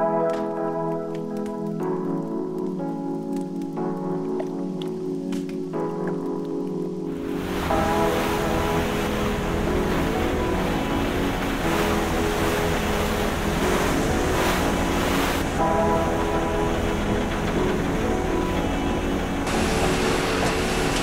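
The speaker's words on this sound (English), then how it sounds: "I'm now on board Skibladner, a paddle steamer from 1856 that still travels the Lake of Mjøsa on scheduled service" The 1856 paddle steamer Skibladner churns across Lake Mjøsa, a steady droning engine rumble with rushing water and wind that swells louder partway through and holds.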